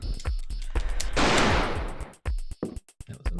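A loud gunshot fires in the horror game Alone in the Dark and is followed by a long, rumbling echo that fades. Sharper clicks and thuds come before and after it.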